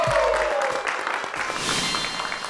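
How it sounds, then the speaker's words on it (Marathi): A game-show audience gives loud cheering applause after congratulating a winning pair, a dense wash of clapping that continues through the whole clip. "एकदा जोरदार टाळ्या होऊन जाते."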